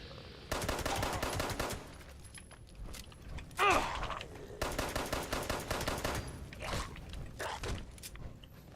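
Gunfire in the video game Fallout 76: two long bursts of rapid automatic shots with a sharp single report between them, followed by scattered clicks and mechanical rattles, all at moderate level.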